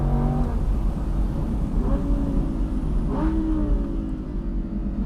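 An Audi R8 V10 Plus Spyder accelerates on a mountain pass, its engine note rising in a couple of quick climbing sweeps under steady road and wind noise, moderately loud from inside the open car.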